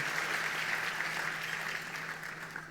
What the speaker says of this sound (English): we should give him a big round of applause